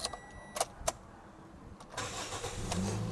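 A 2014 Toyota Vios 1.5 TRD Sportivo engine cranks and catches after a few sharp clicks, then settles into a steady idle rumble, close by.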